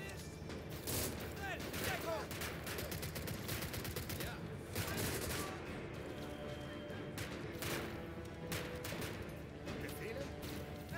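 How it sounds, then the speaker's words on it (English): Machine gun fire in the World War II strategy game Call to Arms: Gates of Hell, a long run of sharp repeated bursts and scattered shots, fairly faint, amid ongoing battlefield noise. "How's the MG gun?"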